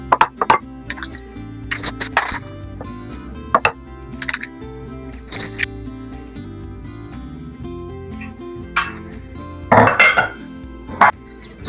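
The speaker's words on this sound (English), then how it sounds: "Remember, I'll be beating these 2 eggs here." Two eggs are beaten in a bowl for crispy chicken balls, giving sharp clinks and taps of a utensil against the bowl in uneven bursts, close and fairly loud with pauses between strokes.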